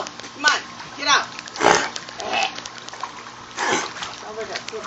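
A dog swims and splashes in water, making several separate bursts of splashing with gulping, snorting noises between them, while people speak nearby.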